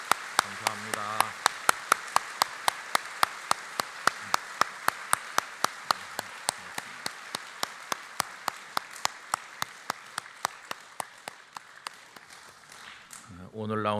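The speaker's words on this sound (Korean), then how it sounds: "이렇게 오래 박수하는 건 영락교회 역사 이래 거의 처음은 아니고 한 두 번째쯤 되는 것 같아요" Long, steady rhythmic clapping from a church congregation at Youngnak Church, evenly spaced claps repeating for many seconds in a reverberant hall, with brief voices at the start and end.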